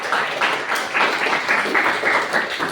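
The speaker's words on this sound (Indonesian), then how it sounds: "Silakan tepuk tangan untuk lagi." Applause from students in an Indonesian classroom during a teaching practice lesson, a steady patter of hand claps running throughout at moderate loudness, with no talk over it.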